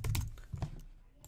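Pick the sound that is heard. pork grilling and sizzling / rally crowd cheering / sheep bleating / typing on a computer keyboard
typing on a computer keyboard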